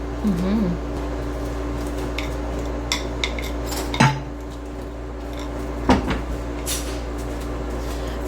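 Metal spoon clinks and scrapes against a dish while sugary mixture is spooned over apple dumplings, a few sharp knocks among soft wet scooping, with people talking at moderate distance under a steady hum.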